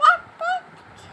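A young child imitates a duck, making two short nasal quacking calls close by, each followed by a brief quiet moment.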